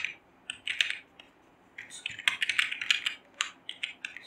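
Computer keyboard typing close by, with irregular clusters of quick, crisp key clicks separated by short pauses and no voices.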